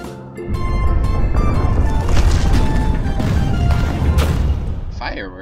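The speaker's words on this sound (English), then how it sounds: "Fireworks." Fireworks going off in the video game Minecraft: Story Mode, a loud rumbling burst of booms and crackles that swells and fades over several seconds, with game music underneath.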